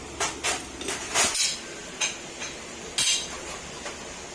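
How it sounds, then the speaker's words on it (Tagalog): Metal-on-metal hammer taps against the edge of a Yamaha NMAX bearing, several sharp clinks spaced irregularly, close and moderately loud with no talk. "Basta dito lang kayo magpupukpok sa gilid, ng bearing"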